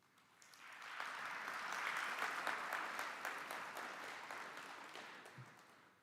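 Applause at the 2021 Health and Wellbeing Awards ceremony, a crowd of clapping hands that builds from quiet, holds a full steady roar, then tapers slightly toward the end.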